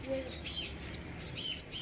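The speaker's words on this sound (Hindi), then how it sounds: "और ये मेरी लोरिकेट, आई लव लोरिकेट पैरट।" A pet rainbow lorikeet parrot gives a few quick, high-pitched chirps and squeaks, faint and close, scattered across a quiet indoor background.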